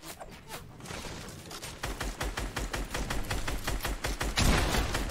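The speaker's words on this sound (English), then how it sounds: "He's getting shot from every person in the server right now." Rapid video-game gunfire from a Champion League Duos battle royale match, dense overlapping bursts of shots from several weapons firing at once, loud and sustained with quick rhythmic volleys that swell near the end.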